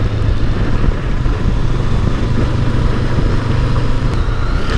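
A Honda NX 500 adventure motorcycle rides on a wet public road, with a continuous loud engine drone mixed with wind and tyre hiss, close and steady.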